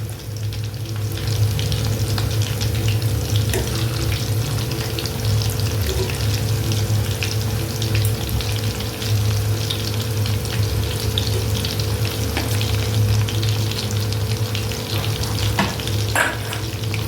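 Thin-cut chicken strips fry in hot oil, giving a loud, continuous close sizzle with faint crackles and a steady hum underneath throughout.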